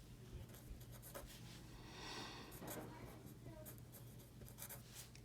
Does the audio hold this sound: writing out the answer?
yes